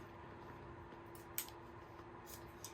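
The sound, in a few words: scissors cutting ribbon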